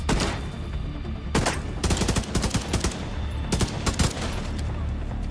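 Enemy gunfire in Tom Clancy's The Division 2, a loud run of sharp shots arriving in ragged bursts and scattered volleys, some close and punchy, others trailing off, over a steady background bed of game noise.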